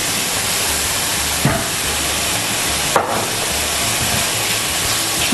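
Onions sizzling in a hot pan as they are added, a loud continuous hiss close by, broken by two sharp clatters of something dropping in.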